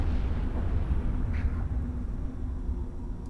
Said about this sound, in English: So now the repair station has been destroyed.